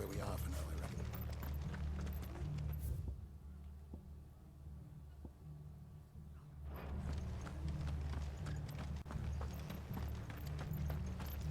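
Horses in Final Fantasy XVI with steady rhythmic hoof clip-clop over a loud low musical or ambient bed, briefly dropping out mid-clip before resuming, with speech over it.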